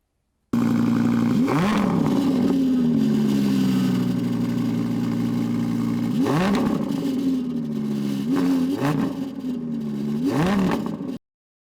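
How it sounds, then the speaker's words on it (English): A car with a Capristo exhaust system revs several times, each blip rising sharply and falling back to a steady idle burble between them. The sound is loud and close, and there is no speech. "installing a Capristo exhaust system, and the car just sounds absolutely incredible"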